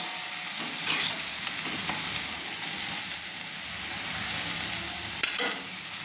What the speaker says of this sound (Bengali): এরপর আমি চিংড়া মাছগুলোকে দিয়ে দিচ্ছি ওই মশলার উপরে, দিয়ে ভালো করে নেড়ে নিচ্ছি।